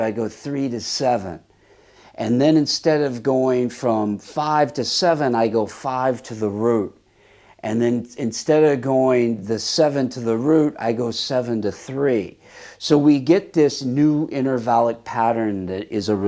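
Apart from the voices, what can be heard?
No everyday noises stand out.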